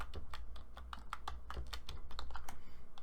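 A password is typed on a computer keyboard, a quick irregular run of close, crisp key clicks with no talk.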